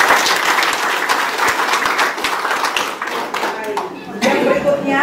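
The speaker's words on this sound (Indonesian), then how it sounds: "Kalau mau boleh berikan tepuk tangan yang paling." An audience applauds at a church and community aid event, with dense clapping that stays steady for about four seconds before thinning out as a voice begins to speak over it.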